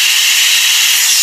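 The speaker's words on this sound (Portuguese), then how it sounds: "Vamos ali agora tirar o ar da panela." Steam hisses hard and steadily out of a pressure cooker as the pressure is released after cooking beef, a loud, close, unbroken airy rush with no talking.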